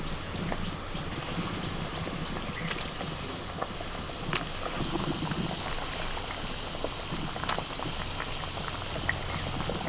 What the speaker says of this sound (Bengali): মশলাটা ফুটছে, মাছ ভাজাগুলো দিয়ে দিচ্ছি।